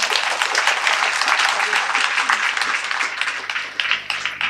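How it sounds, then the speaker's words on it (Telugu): A seated audience at a meditation talk claps loudly and continuously, producing a dense, even wash of hand claps that fades slightly toward the end. "గట్టిగా చప్పట్లు కొట్టండి."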